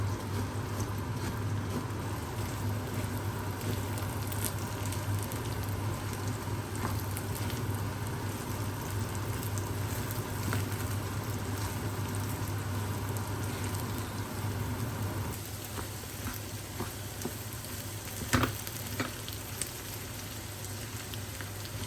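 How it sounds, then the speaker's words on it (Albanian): Rice and onions stir-fried together in a pan for a meat and rice dish, giving a continuous, even crackling sizzle throughout, with a few sharper pops and clinks near the end. "E kom kaverdis në tigan, pra edhe orizin me qep një 5-6 minuta me thanë."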